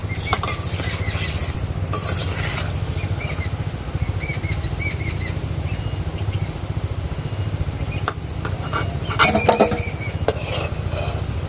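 Kalojam sweets stirred often in a pan, a steady low sizzle under scattered scraping and clinking of spoon against metal, with a few sharper clatters near the end.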